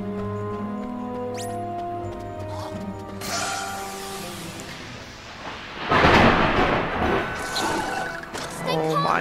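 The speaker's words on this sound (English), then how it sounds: "There was a big thunder and I was scared now. And it was pretty close." A close thunder clap in a pirate-themed video game, a sudden loud broadband rumble that swells midway and keeps rolling over a steady background of game music and ambience.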